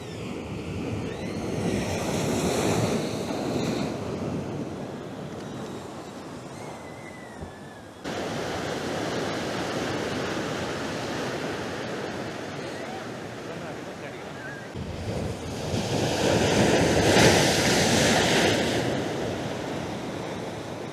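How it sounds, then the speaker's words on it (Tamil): Big ocean waves on the shore along the ECR coast road near Mahabalipuram roll into a continuous loud roar with surges as they break, and wind buffets the microphone while a voice talks faintly. "ஒரு பெரிய அலை வருது"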